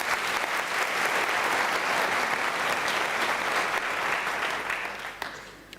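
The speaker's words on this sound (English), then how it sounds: "Ladies and gentlemen, may we give Dr. Madida a round of applause?" Large audience at a university graduation ceremony gives a sustained round of applause, dense and even, then thinning and fading out over the final second with a few last claps.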